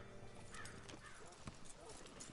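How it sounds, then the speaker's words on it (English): A horse being hitched in the Red Dead Redemption 2 video game: hooves clip-clop and shuffle nearby, with a brief snort or whinny, as people talk over the scene. "Hitch your horse up here."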